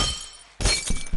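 Glass shatters in the Happy Wheels video game, a sudden loud crash after a near-silent lead-in, then a scatter of bright breaking fragments over the next half second.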